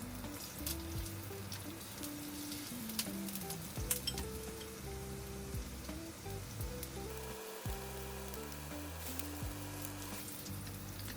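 Ginger slices sizzle and crackle in a little oil in a wok, a steady, fairly quiet frying hiss with faint stirring scrapes and no talk.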